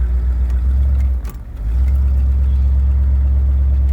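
A Lincoln Continental Convertible's engine rumbles gently, a steady low idle drone close by, dipping briefly in the middle before resuming evenly.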